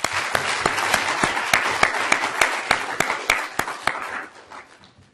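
Sustained applause from a crowd fills the room after the final round of the 38th Annual Charles W. Froessel Moot Court Competition. The dense clapping has a few sharper individual claps and fades out over the last second.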